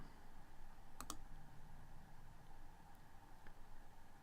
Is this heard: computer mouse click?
yes